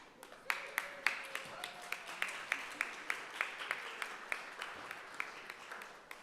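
A sparse group at a city council meeting claps for interns, with several hands giving individual slaps that fall into a loose, fairly regular rhythm. The sound is quiet and a little distant, with a faint voice in places.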